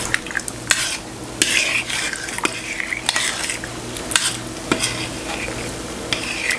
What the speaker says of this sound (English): You want to keep stirring this.